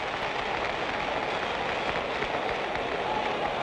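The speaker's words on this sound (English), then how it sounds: "the crowd gives them both a hand as they go back to their corners" Crowd applauding at a 1965 heavyweight boxing match between Floyd Patterson and George Chuvalo as the fighters return to their corners after round 9; a dense, steady wash of clapping throughout, with no clear voices above it.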